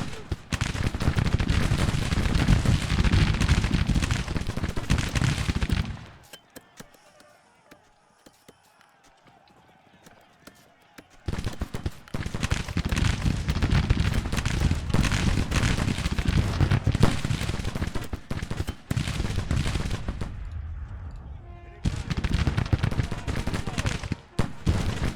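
Dense, continuous volleys of Civil War Sharps rifle fire and booming artillery roar in a Grand Tactician battle, loud and layered, dropping out twice to near quiet before resuming just as heavy.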